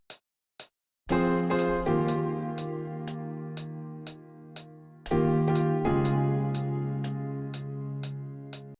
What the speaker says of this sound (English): Very ambient piano sound with quite a lot of reverb,